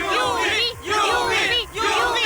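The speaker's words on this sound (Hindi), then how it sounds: "यहाँ पर इतनी भारी बारिश होने के बावजूद भी भीड़ कम नहीं हो रही है।" A crowd of fans waits in heavy rain for the superstar Yuvi, cheering and shouting in repeated rising swells with short dips between them, loud and close.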